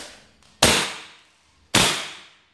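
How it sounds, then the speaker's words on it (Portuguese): Two sharp, loud cracks about a second apart, each fading quickly, as an airsoft Desert Eagle pistol fires a pellet into a can indoors. "Aí, um tiro na latinha."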